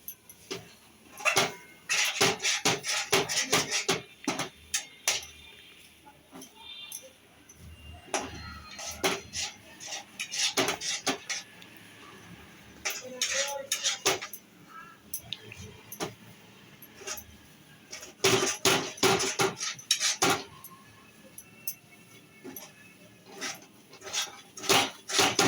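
Metal spoon scraping and clattering against a pan while food is stirred to dry out its water, irregular bursts of clinks and scrapes with quiet gaps between them.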